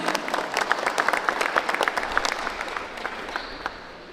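An audience at the inauguration of a Tecnológico Nacional de México campus in Tlahuitoltepec claps with distinct individual hand claps, lively at first and gradually thinning and fading toward the end.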